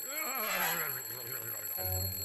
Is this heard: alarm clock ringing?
yes